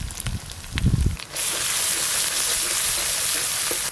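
Chana masala spices sizzle in a hot pan, a few stirring scrapes and clatter at first, then a steady, close hiss of frying that continues evenly to the end.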